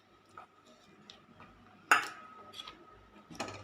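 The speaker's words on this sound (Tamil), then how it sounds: "இந்த நெய்யை ஊற்றி நம்ம நல்லா கிண்டுவோம்." Beetroot cashew halwa stirred in a pan after ghee is poured in, with soft scraping and a few sharp metallic clinks of the spoon against the vessel, quiet and close, with no talking.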